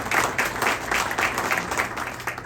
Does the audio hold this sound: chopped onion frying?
no